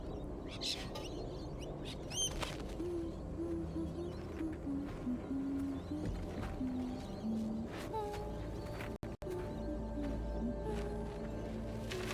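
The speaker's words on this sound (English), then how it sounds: "Birds." Birds call in the video game Death Stranding 2, with hooting, owl-like notes and a few high chirps scattered over a steady ambient game soundscape, some moderately close and others faint.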